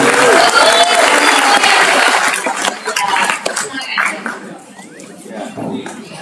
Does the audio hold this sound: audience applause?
yes